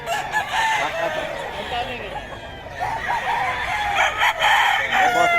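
Several gamecock roosters crow repeatedly at a fowl gathering in Bocaue, overlapping calls and clucks close by and fairly loud, with people talking underneath.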